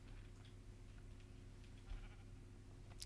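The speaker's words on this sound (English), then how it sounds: "Hello, pink sheep. You will now turn orange." A sheep in the Minecraft video game bleats faintly, a short call heard over a low, steady background hum.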